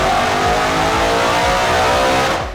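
A supercharged Ford Mustang GT V8 with a VMP Gen 6 3.0 L kit and 3.875 pulley revs hard on a dyno, its loud, close engine note climbing steadily through one sustained pull.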